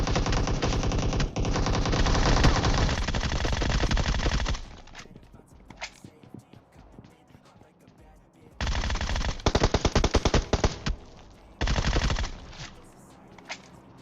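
AWM and Groza gunfire in the PUBG Mobile video game: a long, loud rapid-fire burst of close shots is followed by a quieter stretch, then more sustained automatic bursts and sharp single cracks.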